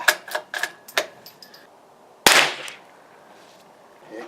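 During precision rifle shooting at about 50 yards, a run of light mechanical clicks and taps is followed by a single sharp, loud gunshot with a short ringing decay.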